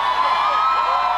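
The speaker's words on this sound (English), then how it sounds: "Can I have a huge round of applause for Mr." A large audience cheers and applauds filmmaker Dibakar Banerjee at an MFCC 2014 session, a loud, dense, unbroken roar of clapping and whoops that fills the whole moment.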